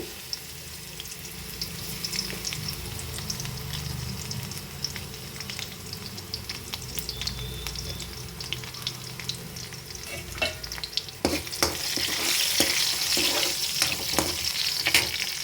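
Garlic hits hot oil in a pan and sizzles steadily, with scraping stirs and small clinks, the frying growing louder and brighter toward the end.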